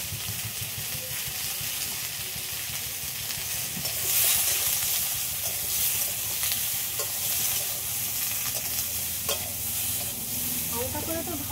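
Lailon tika fish frying lightly in a pan with turmeric and salt, a dense continuous sizzle with occasional stirring scrapes, close and steady throughout.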